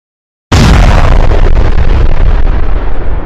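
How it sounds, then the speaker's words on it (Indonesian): A very loud explosion bursts in after half a second of silence, a broad roaring boom that rumbles and slowly fades over about three seconds. "mereka dikagetkan dengan suara ledakan yang sangat keras"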